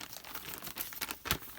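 A plastic shopping bag crinkles and rustles up close while paper flowers are packed, with irregular crackling bursts and one sharp crunch.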